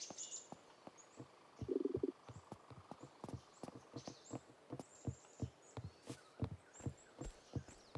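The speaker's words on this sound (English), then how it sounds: "I have bird noises." Chirping birds in an indie video game, high bright calls scattered over a steady rhythmic clip-clop of hooves, moderately loud with no talk.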